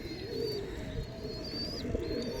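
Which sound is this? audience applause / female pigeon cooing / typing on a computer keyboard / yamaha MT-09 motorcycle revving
female pigeon cooing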